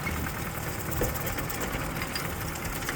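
A vintage tractor engine idles steadily outdoors, a continuous low rumble with a faint knocking texture holding even throughout, no voices over it.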